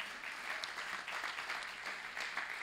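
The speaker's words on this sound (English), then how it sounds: "we can give it up for Mac" Applause from a church congregation for the pastor's wife Mac, a steady, even clapping texture lasting the whole short stretch at moderate distance with no voices on top.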